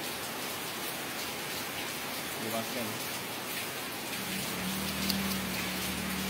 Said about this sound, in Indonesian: Hujan-hujan ni sejuk.